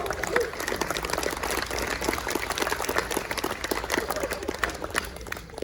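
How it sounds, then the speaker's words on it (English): Wedding ceremony guests break into applause, a dense, steady patter of many hands clapping at a moderate distance that carries on without voices. "Have a round of applause"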